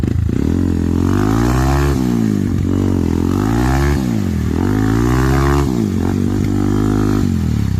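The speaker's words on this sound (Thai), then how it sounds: "ถอยหลังเปิดคันเร่งทีเดียวเลยไม่หงายหรอกเปิดหนัก ๆ" A motorcycle stuck in mud revs hard while reversing, its engine repeatedly surging and dropping in loud, close bursts of rising and falling pitch with some clatter.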